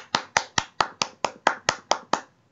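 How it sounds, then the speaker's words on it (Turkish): Ten crisp, evenly spaced hand claps in a steady rhythm, close and clear, with quiet gaps between them and no voices. "Roman Reigns'i alkışlıyoruz."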